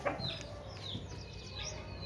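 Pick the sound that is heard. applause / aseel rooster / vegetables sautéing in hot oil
aseel rooster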